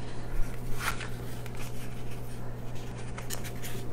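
A bone folder creasing and scraping along paper card stock: steady dry rubbing strokes with a few brighter swipes, close up and moderately loud over a faint background hum, no talking.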